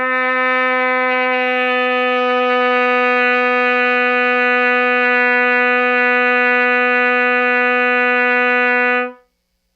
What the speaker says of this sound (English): The other option is to use all these valve slides to lengthen the tubing to the